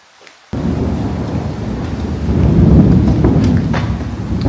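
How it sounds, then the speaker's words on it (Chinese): Thunder rolls loudly during a storm outside an abandoned prison, bursting in after a brief quiet start and swelling into a deep, sustained rumble with rain beneath it. "外面在疯狂打雷。"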